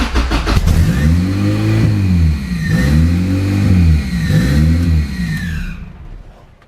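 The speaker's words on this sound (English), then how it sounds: "Alright, car started." A boosted Honda Accord F23 engine with a Walbro 450 fuel pump catches and then revs up and down three times in swelling surges, loud and close, before settling and fading.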